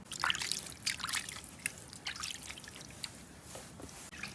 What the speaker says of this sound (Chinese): 加点水，再洗一下。